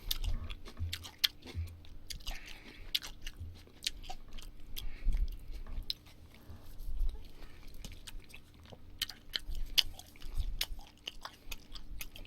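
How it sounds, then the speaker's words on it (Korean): Chewing tteokbokki, chewy wheat rice cakes, during a Korean mukbang eating show: close, wet, sticky chewing and soft squishing bites repeating steadily for several seconds, with faint background noise and no clear talk. "떡볶이 먹을 거예요."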